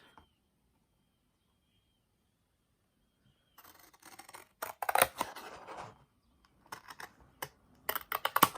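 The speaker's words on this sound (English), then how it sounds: "When you cut these out, you want to try to cut it out with as smooth of an edge as you can get with your scissors." Scissors snip through paper to cut out a square shape, beginning after a quiet stretch with a run of close, crisp cuts and rustles in irregular bursts.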